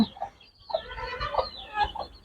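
Backyard hens, with only a few roosters among them, cluck in short scattered bursts nearby, soft murmured calls rising and falling with quiet pauses between.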